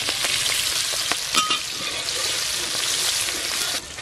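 Spices, green chillies and onion hit hot oil left from frying fish, giving a loud, close, continuous sizzle with crackling bursts and a brief stir toward the end.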